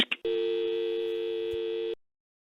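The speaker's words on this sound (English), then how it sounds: "Lines are busy." A single sustained telephone busy tone sounds loud and close for nearly two seconds after a couple of brief clicks, then cuts off into silence.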